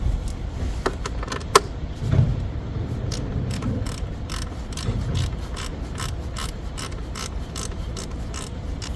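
A ratchet works loose 10mm bolts on a BMW E46 during a spark plug replacement, giving repeated quick bursts of metallic clicking at moderate volume with no talk.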